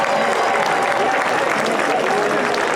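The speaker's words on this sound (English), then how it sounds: "Let's hear a round of applause for our drivers." Crowd at an outdoor Christmas tree ceremony at the US Capitol applauds the truck drivers, a steady dense wash of clapping with a voice faintly mixed in.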